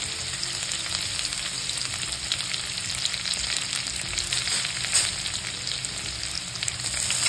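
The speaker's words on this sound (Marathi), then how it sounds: "आणि हा क्रश केलेला लसूण टाकायचा सगळा, आणि कढीपत्ता घालायचा।" Crushed garlic and curry leaves fry in hot oil with cumin, a dense, steady crackling sizzle that is close and continuous throughout, with light stirring and no speech.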